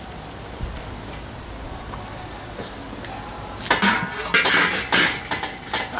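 A stainless steel wok handled on a rocket stove grill, metal clanking and scraping in a few sharp bursts after a quieter opening, close and fairly loud.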